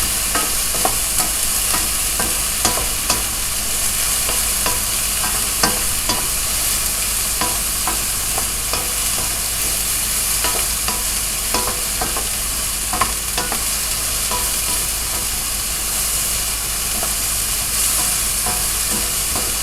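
Mushrooms fry in a hot pan on high heat with a constant bright sizzle, punctuated by repeated scraping and clacking as they are stirred around, close and loud with no talking.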